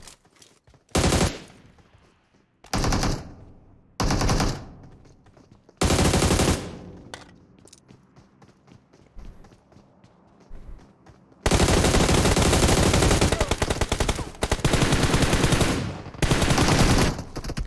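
An M249 machine gun fires in a video game, with several short bursts followed by a long sustained stream of automatic fire, loud and close.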